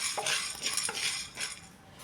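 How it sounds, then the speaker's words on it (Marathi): Sabudana (sago pearls) roasted over a low gas flame in a small pan, stirred with a utensil that gives repeated soft scraping and light clinking strokes, close and steady with no voices. "गॅसची फ्लेम लो करून हा साबुदाणा आपण भाजून घेऊया."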